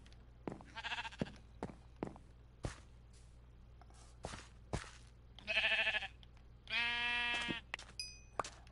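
Minecraft sheep bleat twice in quick succession, close and clear, after a run of soft blocky footsteps and thuds over a faint steady game hum.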